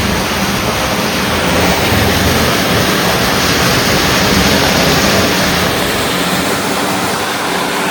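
Water gushes out of an overfilled water tank in a loud, steady, close rushing roar that continues unbroken and is heard alone without talk.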